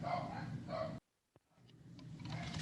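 Dogs bark and howl in a nearby room, sustained, tonal calls at the start, then after a brief silence a soft yip and rising whines and barks return at moderate volume.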